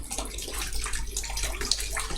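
Water poured and splashing steadily during the washing of a deceased body with a towel, a continuous wet wash with small splashes throughout, no talk.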